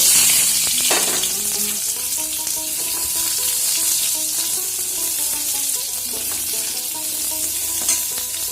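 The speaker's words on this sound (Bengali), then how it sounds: "কড়াইয়ে যে পকোড়া ভেজেছিলাম ওই তেলের মধ্যেই আমি আলুগুলো দিয়ে" Potato pieces fry in a wok of oil already used for pakoras, a continuous bright sizzle with occasional stirring, set under background music and holding steady throughout.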